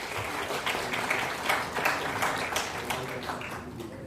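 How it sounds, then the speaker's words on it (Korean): Steady applause from a large audience at an award ceremony for an international MRA anniversary event at a youth center, a dense even wash of many hands clapping at once, sustained for the full stretch without talk. "큰 박수 보내주시기 바랍니다."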